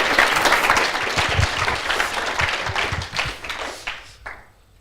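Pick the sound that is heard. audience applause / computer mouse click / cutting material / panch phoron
audience applause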